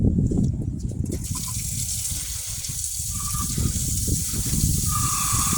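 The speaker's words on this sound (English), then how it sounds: "So I'm just gonna fill up my pot with water and light the fire." Water gushes from a tap into a canning pot for a water-bath canning batch of carrots, a loud, steady rushing pour that stays constant for several seconds, with no talking.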